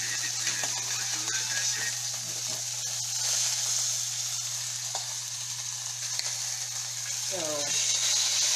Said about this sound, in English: I'm just sauteing and searing the rest of this.